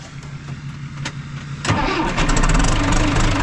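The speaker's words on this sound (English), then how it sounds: "let me get tractor started up." A farm tractor engine cranks briefly, then catches and roars to a steady, loud rumbling idle close by.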